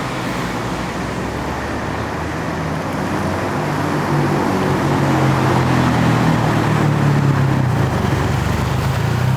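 Steady traffic roar on a Bangkok road with cars and motorbikes passing close by, a broad continuous rumble that swells slightly as vehicles go past, with no talking.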